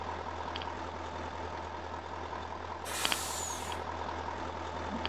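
A truck in the Farming Simulator 19 game rolls downhill with a steady low engine rumble, and a brief sharp air-brake hiss bursts out midway.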